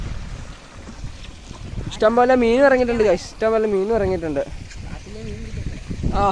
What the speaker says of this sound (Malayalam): അടിപൊളി കാറ്റാണ് അടിപൊളി